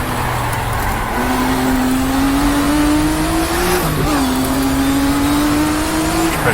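Race car engine in the GTR2 racing video game holding a loud, steady drone that climbs smoothly as it revs, dips briefly on a gear change, then rises again, with no talk over it.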